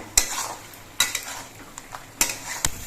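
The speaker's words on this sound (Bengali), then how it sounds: "মশলাগুলো দিয়ে ঝিঙেগুলো কষানোর সময় কিন্তু একটু পরপরই নেড়ে দিতে হবে" Ridge gourd cooking with spices in a pan is stirred every so often, each pass a sharp metal scrape and clatter over a faint, steady sizzle, close by.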